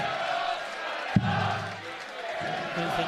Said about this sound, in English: Daniel encouraging the noise from the crowd.